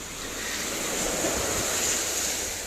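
Sea waves roll at a Tioman Island beach, a steady broad wash of surf with a little wind noise, no talk over it.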